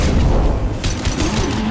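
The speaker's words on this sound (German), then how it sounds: "Drei Schüsse und dann ist es auch vorbei." Booming gunfire from the video game Mass Effect 2, several heavy shots with a dense rumbling low end, loud and continuous with no voices.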